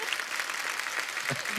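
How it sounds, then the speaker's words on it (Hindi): Sustained applause from a TV comedy show studio audience fills the clip, a steady wash of clapping with no pauses. "एक बार हमारे सभी मेहमानों के लिए जोरदार तालियां।"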